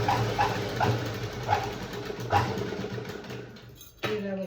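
A sewing machine stitches blouse fabric in short rhythmic bursts of rapid mechanical chattering, close and moderately loud, with brief pauses between runs.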